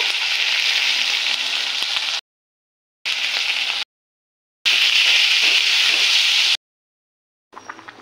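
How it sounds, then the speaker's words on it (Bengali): Potatoes frying in a pan with salt, turmeric and ground spice paste of cumin, ginger, chili and onion, a loud close hiss of frying in several bursts separated by abrupt silent gaps. "লবণ হলুদ দিয়ে এখন আলুটা ভালো করে মশলার সাথে কষিয়ে নেব।"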